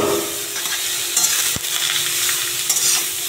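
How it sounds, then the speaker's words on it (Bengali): Grated carrots for carrot halwa fry loudly in a pan and are stirred, a continuous close sizzle with scraping spoon strokes and one sharp knock, no talking. "এবার কিছুক্ষণ এটাকে আমি ভেজে নেব সুন্দর করে"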